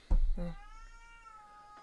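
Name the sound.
cat meowing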